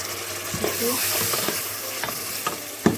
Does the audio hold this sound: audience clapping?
no